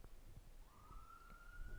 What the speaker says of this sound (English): I heard sirens outside, so you probably are.